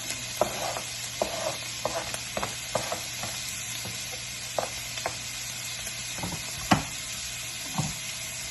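Half an onion sizzles in a cast iron skillet over mid to mid-high heat, a steady soft hiss punctuated by scattered sharp pops and ticks of a utensil, close and alone.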